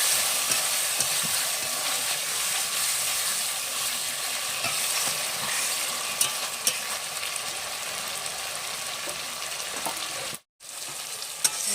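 Chicken with taro simmers in a pot with a little water, giving a constant close bubbling sizzle with faint stirring scrapes and one brief drop to silence near the end; no one speaks.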